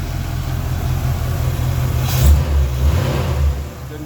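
A 1978 Camaro RS engine runs loud and close, a steady low rumble with a slight rise in revs midway before settling, no voices.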